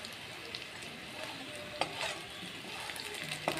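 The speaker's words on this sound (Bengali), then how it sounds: "আস্তে আস্তে আমরা আলুগুলো ভেজে নেব" Potatoes fry slowly in a pan, giving a soft continuous sizzle with a few light scrapes and taps as they are stirred.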